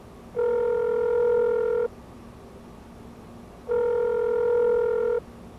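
A telephone rings out unanswered on a call placed to a son: two long, steady electronic ring tones separated by a pause of about two seconds, clear and close, with no voices.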